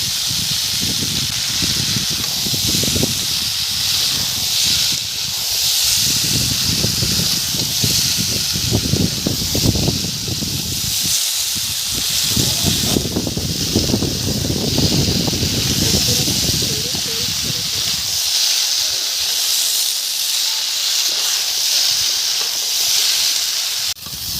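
Poppy seed paste hits a hot pan in a village-style Bengali kitchen and sizzles loudly, a steady hissing fry with crackling bursts that thins out toward the end.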